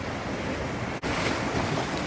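Ocean waves rolling in at Pebble Beach, California near low tide: a loud, continuous broadband wash of surf with some wind on the microphone and a brief dropout midway, with no one talking.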